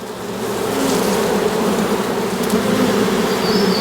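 Honeybees drone loudly and continuously at an opened hive, a dense close swarm buzz that holds steady throughout with no voices.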